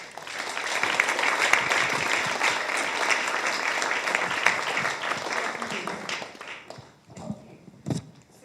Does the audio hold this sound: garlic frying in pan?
no